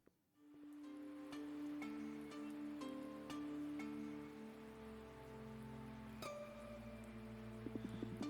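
Rain falls steadily in the video game Universe For Sale, a faint, even patter behind soft, sustained music tones.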